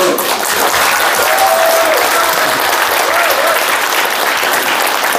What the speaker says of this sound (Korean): 박수 받으려고 한 건 아닌데 보람 좀 느껴집니다.